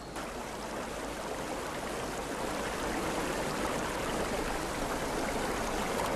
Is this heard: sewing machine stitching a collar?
no